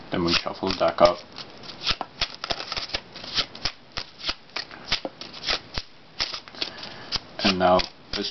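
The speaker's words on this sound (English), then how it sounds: "Then we shuffle the deck up." A deck of playing cards is shuffled during a card trick, a run of quick crisp riffles and soft slaps with brief bursts of talk at the start and end.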